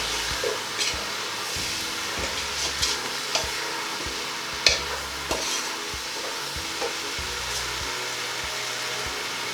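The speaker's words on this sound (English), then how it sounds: "so stir the herbs in" Herbs are stirred into a vegan leek and potato soup in a pot, giving a soft continuous sizzle with intermittent scraping and clinking stirring strokes, close and moderately quiet, without talking.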